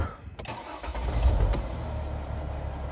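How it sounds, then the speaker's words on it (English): A 2012 Mercedes Sprinter van engine cranks briefly and then catches, settling into a steady low idle rumble close by. "Let's go ahead and start this van up."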